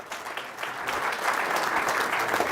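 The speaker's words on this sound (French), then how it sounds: "Je vous demande un tonnerre d'applaudissements pour Étienne" Audience applause for a presenter named Étienne at a business talk, a dense, steady wash of many hands clapping that swells louder after the first second and holds without speech.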